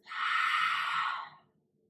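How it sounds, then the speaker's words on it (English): A single long breath is exhaled through the mouth during a yoga session, a soft, breathy whoosh lasting about a second that fades into silence, close and clear. "Exhale out through the mouth"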